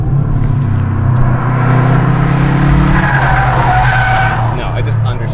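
A Honda Civic Type R or Subaru WRX STI on a race track is pushed hard into a corner, with loud engine drone and a rising tire squeal and skid over several seconds.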